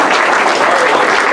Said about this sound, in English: A round of applause for my second host